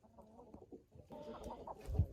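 Chickens cluck in a backyard flock with one or two roosters, soft scattered calls near and far, rising to a louder burst toward the end.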